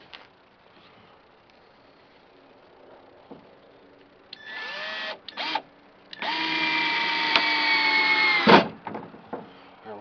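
Power drill driving self-drilling screws into wood while building a cold frame, short whirring bursts and then a long steady high-pitched spin of several seconds, ending in a thump, with quiet handling noise between.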